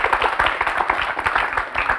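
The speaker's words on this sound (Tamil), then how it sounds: "ராகமித்ராக்கு ஒரு கைத்தட்டல் கொடுங்க." An audience at a Thirukkural recitation event for students gives steady, dense applause, many hands clapping together loudly and continuously with no voices.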